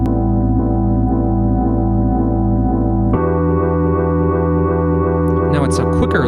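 A sustained electric piano chord loops continuously, jumping higher in pitch halfway through, with a brief burst of talking near the end.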